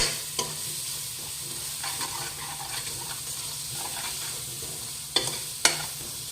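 Tomatoes fry in a hot pan with a steady close sizzle, broken by scraping stirs and a few sharp utensil clacks near the end; no one speaks.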